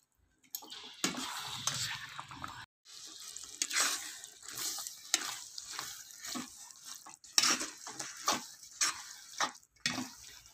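Spoon stirring Chettinad mochai (field bean) masala in a pan, heard as repeated close scraping and wet scuffing strokes in an irregular rhythm, with brief pauses.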